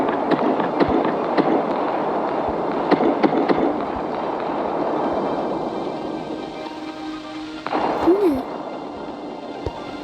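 A bomb blast in the Solar Smash game, a planet-destroying space game, comes as a dense rumbling roar with crackling bursts, loud and continuous, easing toward the end with a brief tonal sweep.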